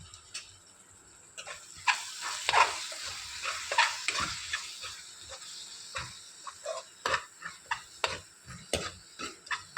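Tomato pieces cook down in a pan for Andhra-style egg pulusu curry, a soft frying hiss with irregular clicks and spoon taps against the pan, close and without speech.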